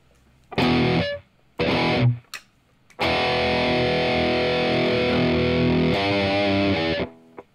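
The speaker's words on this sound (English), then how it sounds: "Let me just make sure I've got the right guitar tone for you, man." An electric guitar played through a distorted tone rings out in two short chord stabs, then one long sustained chord that fades, loud and alone.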